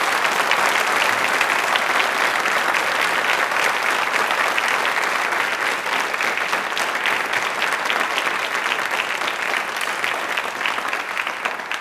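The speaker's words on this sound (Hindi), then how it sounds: "एक बार हिंदी के लिए वापस से तालियां जोरदार लीजिए" A large audience claps loudly and steadily for the full stretch, dense overlapping applause at a televised Hindi language event with no voices on top.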